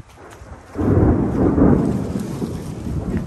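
A low thunder rumble in a lightning storm among cypress trees, rising suddenly and rolling on loud and close over a steady hiss of rain.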